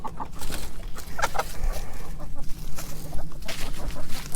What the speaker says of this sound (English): The chickens really do like their time.